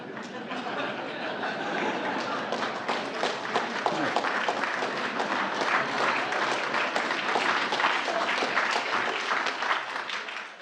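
Crowd applause at a political speech marking the January 6 anniversary, steady dense clapping that holds at an even level throughout and comes across full and fairly close.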